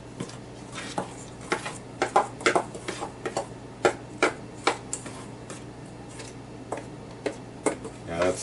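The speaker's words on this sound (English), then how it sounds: "My whisk broke, so I'll be stirring this up today with a spoon." A spoon stirs flour in a cast iron skillet, making a steady run of sharp scraping ticks and clinks at an uneven rhythm, close and moderately loud over a faint background hum.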